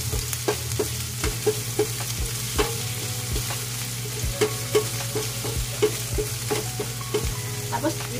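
Onion frying in a pan for beef bistek, a steady close sizzle broken by repeated scraping stirs and clinks of a utensil against the pan, with no talking.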